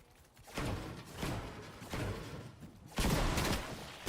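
Gunfire in a Dead by Daylight anniversary game, several heavy bursts of shots landing in quick succession at a moderate distance, with no voices over them.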